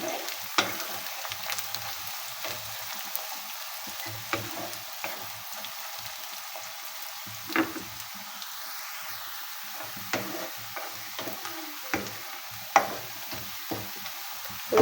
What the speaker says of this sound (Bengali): বন্ধুরা দেখুন পেঁয়াজটা হালকা হালকা ভাজা ভাজা হয়ে আসছে